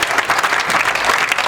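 Audience applause at a patriotic Hindi poetry recital in Vivek Vihar, a steady dense clapping from a large seated crowd, close and loud throughout with no voices over it.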